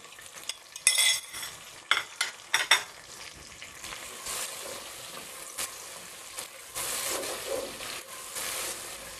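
Chopped garlic, ginger and green chillies fry in hot oil for a spicy masala chicken biryani, with a steady soft sizzle broken by a few sharp clinks and scrapes of a spoon stirring the pan.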